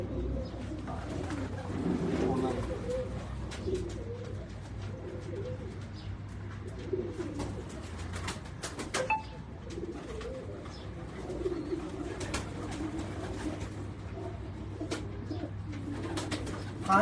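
Pigeons coo softly in the background, low repeated calls under a steady hum and scattered clicks, faint and continuous with no clear talking.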